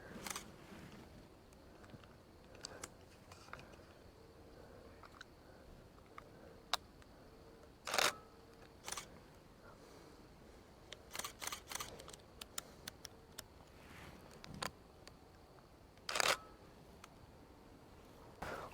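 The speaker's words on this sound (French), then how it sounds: "je vais essayer de le prendre en photo" Sharp camera shutter clicks while taking photos in a forest, a few isolated snaps and short bursts spread over quiet ambient background, fairly close, with no talking.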